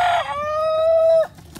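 A Gallo Pava fighting rooster gives a single loud, close crow, a brief rising start followed by a long sustained note that cuts off sharply.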